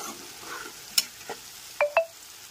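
Masala spices for a Bengali-style soya chunk curry frying on a medium gas flame, with a low steady sizzle broken by a few sharp scraping clicks of the spoon stirring the pan, heard close and with no talking.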